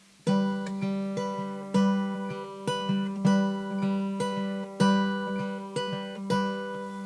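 Fingerpicked acoustic guitar playing a repeating pattern of plucked notes and bass strums, clear and close, with steady rhythmic attacks and ringing sustain.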